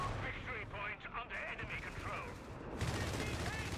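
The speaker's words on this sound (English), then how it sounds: "nice strafing run from Jaeger to pin those foot guards" Strafing-run gunfire in the real-time strategy game Company of Heroes 3 during a 2v2 match, a dense rattle of rapid automatic shots and bursts over continuous battle noise, with speech present in the mix.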